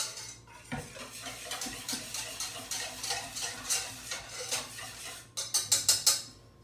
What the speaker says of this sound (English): Give it another little whisk.